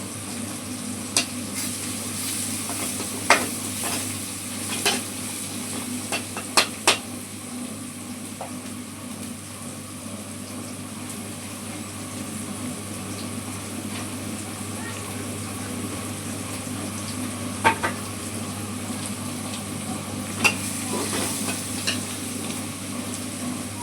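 Bitter gourd stir-frying in a pan with light salt and turmeric, a steady low sizzle throughout with occasional sharp scrapes and taps of a spatula against the pan, close by, while a voice talks intermittently.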